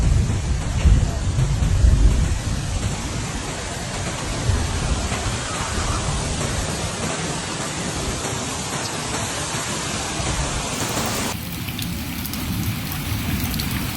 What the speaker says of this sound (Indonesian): Hujan gede tuh.